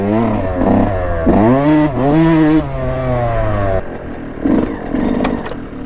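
A two-stroke dirt bike rides through wooded trails, its engine revving up and down with a buzzy rising and falling tone, loud and close, before easing off into rougher, choppier throttle near the end.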